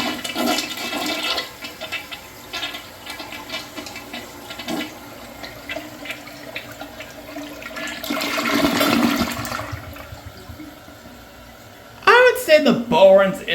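A 1980s second-generation Kohler Barrington toilet flushes with a rushing swirl of water that builds and then drains away, followed by a person talking.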